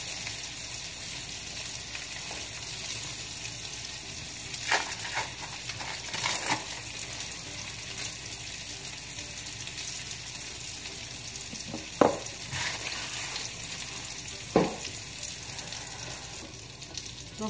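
Hamburger patties fry in a pan with a steady, continuous sizzle, punctuated by a few brief clanks and scrapes of a utensil.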